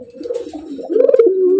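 A racing pigeon cooing up close, with soft, low, throaty rolling calls that build into a longer sustained coo.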